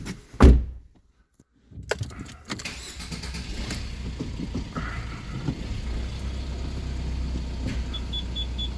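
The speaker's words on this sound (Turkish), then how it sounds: "Aracı kısa bir ileri geri yürüteceğim." A Fiat Fiorino van gets a loud thunk up front and a short pause, then its engine idles and the van creeps briefly forward and back with a low, steady rumble, and a faint repeating beep appears near the end.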